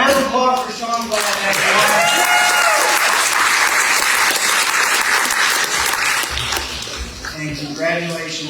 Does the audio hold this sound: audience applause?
yes